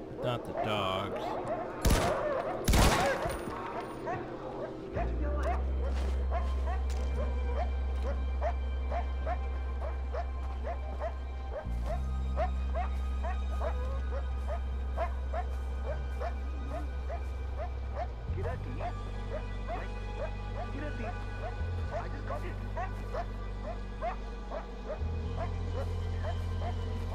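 Dogs in the Far Cry 4 video game bark in a fast, repeated, steady rhythm over a constant low hum of game sound, with short gunfire-like bursts near the start.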